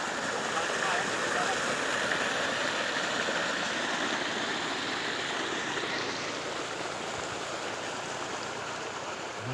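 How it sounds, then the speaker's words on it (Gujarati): Irrigation water gushes strongly into a farm field, a loud, constant rushing roar that fills the whole stretch, with voices faintly audible beneath it. "પાણી જોરદાર આવે છે"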